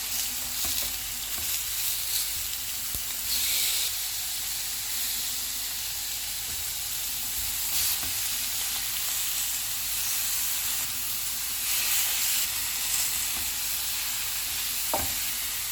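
Green chicken tikka frying over a full flame, a steady loud sizzle and hiss of fat with occasional crackles and spits, close up and continuous without any talking.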